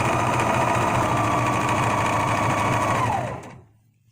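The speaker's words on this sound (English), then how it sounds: "Remember, if you're a beginner, don't sew as quick as I am." A sewing machine runs fast in one steady burst, a loud, close, high mechanical whir with a rhythmic needle chatter that winds down and stops after about three and a half seconds.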